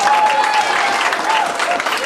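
At a family martial arts center belt ceremony, an audience gives a student a round of applause, a steady, fairly loud burst of clapping with faint voices mixed in.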